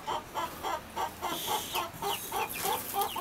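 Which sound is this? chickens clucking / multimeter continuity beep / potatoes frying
chickens clucking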